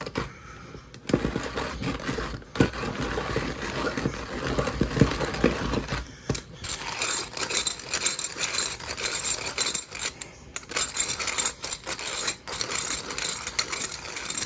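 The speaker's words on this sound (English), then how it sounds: "A few more grinds and we should be done." A hand coffee grinder crushes roasted beans in a continuous gritty, ratcheting crunch, close and steady, with short pauses between turns.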